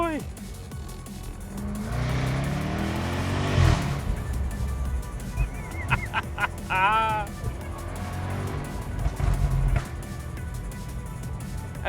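A Jaguar F-Type SVR works through a tight hairpin, its engine rising and falling in revs with sharp blips on downshifts, under someone talking in the cabin.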